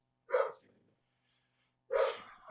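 Dogs bark in two short, sharp bursts about a second and a half apart, close and fairly loud, with near silence between them.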